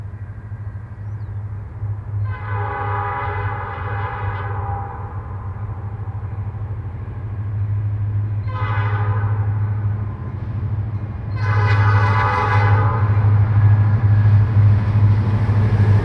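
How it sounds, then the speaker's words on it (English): SD40-2 locomotive 3337 leads a priority intermodal train past, its horn sounding three loud blasts over a steady, close, low rumble of engine and rolling cars. "3337 leading, a very uncommon sight for an SD40-2 leading a priority intermodal train."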